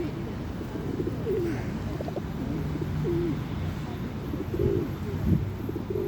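Pigeons or doves coo softly in a park, several short calls scattered over steady outdoor background noise, with occasional quiet voices nearby.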